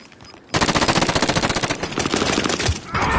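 Rapid automatic gunfire in a Resurgence quad match of a shooting video game: a loud, sustained burst of closely spaced shots that starts abruptly and runs almost continuously for several seconds.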